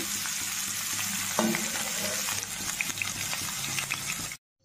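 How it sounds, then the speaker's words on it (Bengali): Mixed Bengali vegetables sizzle loudly in a spice tempering as they are stirred, a continuous hiss with occasional scraping knocks, cutting off abruptly into silence at the end. "এখন দিয়ে দিচ্ছি ফোড়নে সবজিগুলো।"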